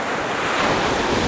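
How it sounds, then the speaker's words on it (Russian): Stormy sea waves break on the Crimean coast at Tarkhankut while strong wind batters the microphone, forming a loud, continuous roaring wash. "Бушуют волны, и шторм только разгоняется."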